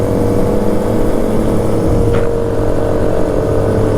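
A 2021 Yamaha MT-09 motorcycle rides slowly in low gears amid a pack of Honda Grom bikes at a meet, its engine a steady, loud droning rumble with wind noise throughout.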